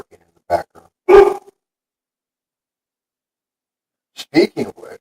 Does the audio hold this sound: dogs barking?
yes